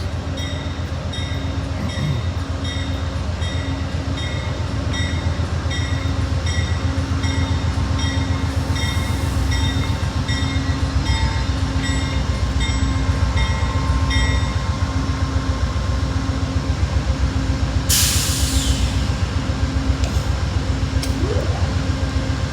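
An Amtrak passenger train pulls into a small, little-used rural station, its steady low rumble and rolling wheel noise filling the whole stretch, with tonal squeals and brake hiss rising near the end.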